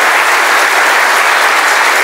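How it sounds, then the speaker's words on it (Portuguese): Loud, dense applause from a crowd, steady and continuous throughout. "Dê para Jesus uma salva de palmas."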